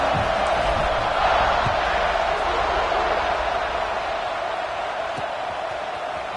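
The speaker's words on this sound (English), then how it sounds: "this crowd is buzzing after that last score" A football stadium crowd cheers and roars after a score, a dense, steady wash of many voices that stays loud and unbroken throughout, with no distinct individual shouts standing out.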